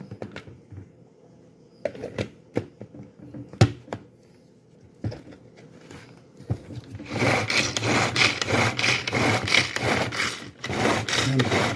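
Pull-cord food chopper dicing tomatoes and vegetables for homemade hot salsa, first a few separate sharp clicks and scrapes, then several seconds of steady, loud, rapid whirring and rattling from repeated cord pulls.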